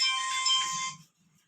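A phone rings indoors in one short electronic bell-like tone of about a second, clear and fairly close, then cuts off into near silence.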